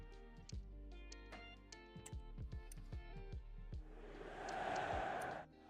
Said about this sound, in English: We got an Arsenal crowd chant.